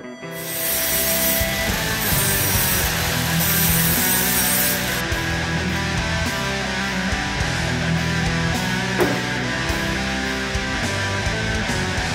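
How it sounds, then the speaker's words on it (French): Metal piece being ground down to size with a grinder while welding a Panzer Estaf build, a loud steady abrasive roar running continuously close up, with no talking. "Petit à petit je meule, histoire de retrouver vraiment la bonne taille afin de pouvoir venir le cadrer là-dedans."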